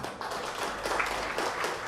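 An audience at a school ceremony launching digital lesson plans applauds, a steady wash of many hands clapping together at moderate volume throughout, with no voices rising above it.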